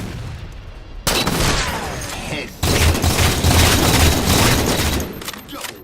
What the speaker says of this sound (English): the new and improved head-turning sound of the sniper rifle